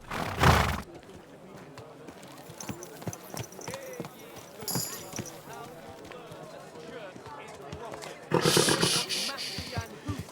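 Horse riding in Kingdom Come: Deliverance 2, with hooves clip-clopping steadily under game voices, a neigh near the start and another louder burst near the end.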